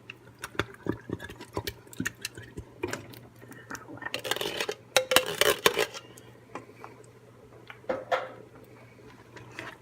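Cream of mushroom soup being stirred into a dish in a home kitchen, with intermittent scraping and clinking of a utensil against the pot, a cluster of busier stirring in the middle, fairly faint over a low steady hum.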